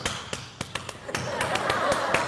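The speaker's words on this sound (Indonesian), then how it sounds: "Itu tepuk pramuka itu bos." Indonesian scout-style rhythmic hand clapping (tepuk pramuka): a patterned series of sharp claps in quick bursts, close and clear, with murmurs and light laughter from a crowd behind.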